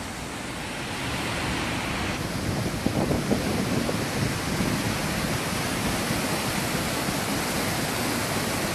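A powerful roar of the Narmada River rushing continuously over Dhuandhar Falls, broad and loud, with wind buffeting the microphone.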